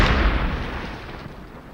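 Combustion explosion inside an unprotected armored vehicle crew compartment: a loud, sudden blast at the start that decays into a long rumbling roar, fading over under two seconds.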